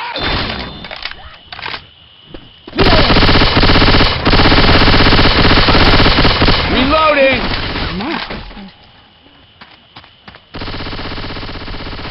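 Long, loud bursts of machine gun fire in Left 4 Dead 2 roar in two stretches, separated by quieter moments with scattered clatter and a voice.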